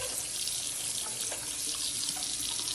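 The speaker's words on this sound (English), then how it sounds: "So you just want to turn the water on, and you want to clean your sink really," Water runs from a bathroom sink faucet in a steady, hissing stream splashing into the basin, close and continuous with no voices over it.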